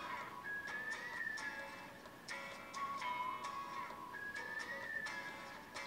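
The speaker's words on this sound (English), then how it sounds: "that's a clear whistle" A person whistles a clear, thin melody with sustained notes and short pauses, over a quiet background with faint ticking.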